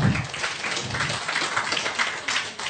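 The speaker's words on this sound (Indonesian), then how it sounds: "Sekali lagi tepuk tangan biar tambah semangat." Dense crowd applause at a religious debate event, a continuous wash of many hands clapping at moderate loudness without pause.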